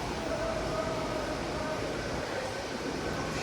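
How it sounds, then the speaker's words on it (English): A CrossCountry HST service from Glasgow Central to Penzance rumbles steadily into Exeter St David's station, a broad continuous low-frequency roar with faint tonal whine, close and constant throughout. "We have a cross-country service coming in from Glasgow Central going to Penzance."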